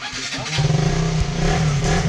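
Motorcycle engine catching and starting, then revving in short bursts with a steady idle between, close by and fairly loud.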